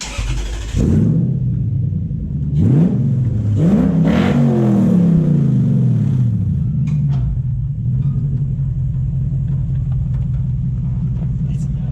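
A Massey Ferguson tractor fitted with a V8 1UZ engine revs hard nearby in a few rising and falling bursts, then settles into a steady, loud rumbling idle.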